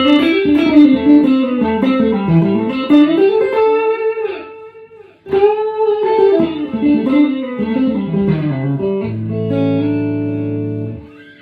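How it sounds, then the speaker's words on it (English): Electric lead guitar played through a long, quiet echo pedal, a melodic line with bends and sustained notes trailed by soft delayed repeats low under the dry signal, ending on a held chord. "I want a good kind of longish, quite quiet echo, which you can use on a lead guitar solo."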